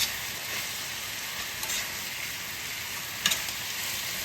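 Chow mein noodles with steak and vegetables stir-fried in a hot pan give a loud, continuous sizzle, with a couple of brief scraping tosses and no talking.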